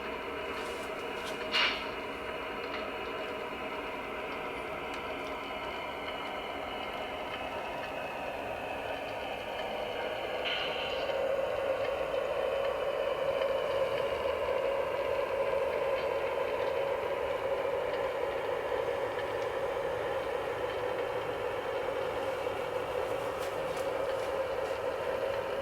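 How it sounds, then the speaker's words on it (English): A Lionel SW1 model locomotive runs slowly over O gauge track and turnouts, a low steady motor hum and rolling rumble that grows slightly louder midway, with a couple of faint clicks. "You can see here with this Lionel SW1 locomotive not having any trouble at all negotiating any of the turnouts, any of the track areas"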